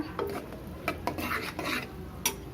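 Spoon stirring and scraping through a pot of mashed brinjal and okra kadaiyal as the hot tempering is mixed in, with soft, irregular clinks and scrapes against the vessel close by.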